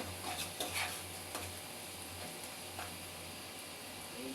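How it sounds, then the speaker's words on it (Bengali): Chilli powder and other ground spices fry quietly in a pan for a chicken masala kebab, with a soft sizzle and a few light clicks and scrapes of stirring throughout. "এখন হলো সবগুলো মশলা আমি একটু ভেজে নেব।"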